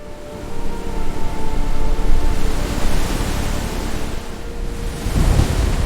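Stormy sea waves crash and roar in a steady, loud wash of surf and wind, swelling and easing with a fresh surge near the end; no voices over it.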